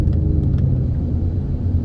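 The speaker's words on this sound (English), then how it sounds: "definitely can hear my car a lot" A 2018 Ford Mustang GT with a 10-speed automatic idles at a red light, its engine a loud, close, steady low rumble with a faint metallic tick at the start and no talk.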